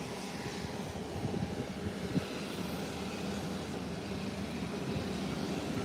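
A propeller airplane climbs away after takeoff near Caicos, giving a steady, distant broadband roar that holds fairly even and slowly fades, with no talk.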